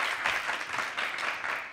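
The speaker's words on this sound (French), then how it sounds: "est-ce qu'on peut s'applaudir?" An audience applauds in a dense, continuous burst of clapping that holds fairly steady throughout.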